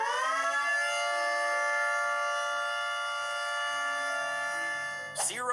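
A T22 siren sounds a loud, steady, sustained harmonic tone that holds level for about five seconds before cutting off abruptly into a short noisy burst.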